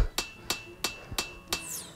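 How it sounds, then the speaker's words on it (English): A hammer striking metal flat on an anvil in the Hammer & Anvil VR game: five sharp, evenly spaced clanging blows about a third of a second apart, loud and close, with faint ringing between strikes and no talk. "I'll just hammer this one flat."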